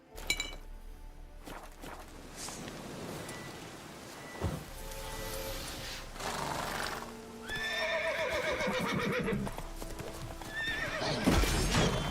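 Roach, Geralt's horse in The Witcher 3: Wild Hunt, clip-clops along with hoofbeats and gives a couple of whinnies, with faint clinks of tack; close and clear, and a voice speaks only briefly.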